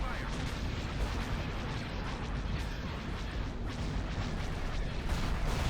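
Corvette guns firing in a Star Wars space strategy game, a dense, continuous barrage of booming rumbling shots filling the clip from start to end.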